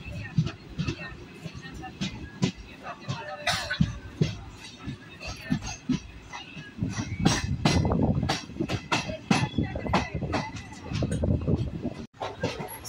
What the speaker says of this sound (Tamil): சீர்காழி ரயில்வே ஸ்டேஷன் வண்டி எடுத்தாச்சு